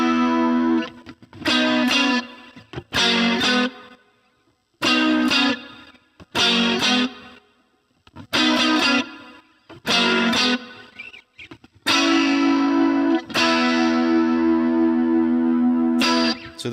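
Electric guitar run through effects plays a verse riff, with short bursts of ringing notes separated by pauses before settling into a longer sustained phrase near the end.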